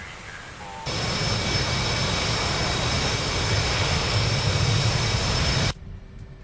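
Loud, steady roar of an F/A-18C Hornet jet engine on a supercarrier deck in the DCS World flight simulator, a dense wash that rises abruptly, holds for about five seconds, then cuts off, with no voices.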